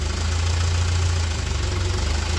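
An old Ford tractor, left out in the rain for years, runs close by with a steady low engine rumble and a knocking idle. It keeps going evenly with no talk.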